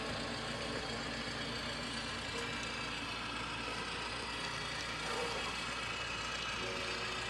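An HO-scale Rapido GE 44-ton model diesel locomotive idles with a steady, continuous engine rumble from its sound decoder, holding at an even level from start to finish.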